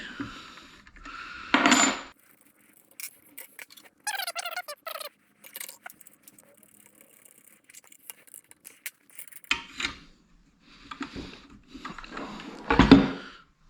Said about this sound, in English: I'm just gonna take off this wood blade here, just shove it in here to stop the blade, loosen it up